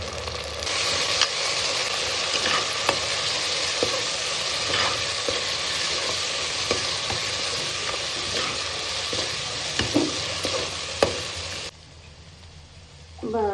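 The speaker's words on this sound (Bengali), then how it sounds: "পেঁয়াজ, রসুন কুচি, আদা সব মোটামুটি ভাজা হয়ে গেছে।" Chopped onion, garlic and ginger paste fry loudly in a pan for chicken stew, a dense continuous sizzle like heavy rain with occasional utensil scrapes, cutting off abruptly near the end.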